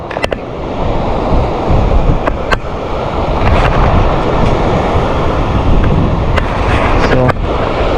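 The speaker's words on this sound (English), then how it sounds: "Pretty good sized waterfall too." A good-sized waterfall near the Kit Carson area, a loud, continuous broadband rush of falling water heard close by, with a few sharp clicks and knocks over it.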